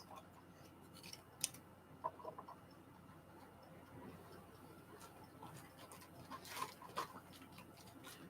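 Kitchen scissors cut a leftover food half, giving a few quiet, crisp snips spaced out over several seconds against a soft, faint room background.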